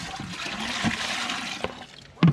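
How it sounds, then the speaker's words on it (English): Water splashes and pours out of a rock tumbler pan holding tumbled rocks and ore, a steady rushing gush lasting about two seconds that ends with a brief clatter. "Let me dump out some of this water."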